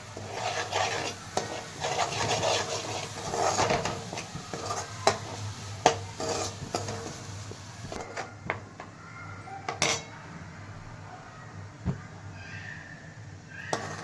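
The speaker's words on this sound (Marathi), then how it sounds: "मसाला छानसा असा परतून द्यायचा" Masala with a pinch of turmeric being sautéed in oil in a pan for a rustic black chicken curry, with steady scraping and stirring clatter, a faint sizzle and occasional louder metal knocks.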